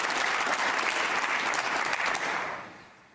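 Snooker crowd at the 2017 Northern Ireland Open semifinal applauds a shot with warm, even clapping that holds for a couple of seconds, then tapers off.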